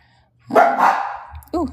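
A dog gives one longer bark followed by a short second yip nearby, loud and alone against a quiet room.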